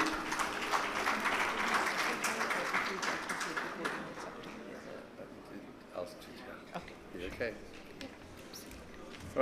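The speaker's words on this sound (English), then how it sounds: "Ladies and gentlemen, a big round of applause for Dr. Mark Bistro." Conference audience applause at a minerals summit in Pakistan, a broad clatter of many hands that swells early and then thins into scattered claps, with some talk mixed in.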